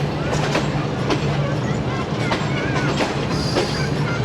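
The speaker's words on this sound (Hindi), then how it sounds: "शाम के 6:50 और सादकाबाद पहुंच रही है ट्रेन" Shalimar Express passenger train pulling into Sadiqabad station on the Karachi to Lahore line, steady rumbling wheels with rhythmic clicks and a faint squeal, heard from aboard with voices talking underneath.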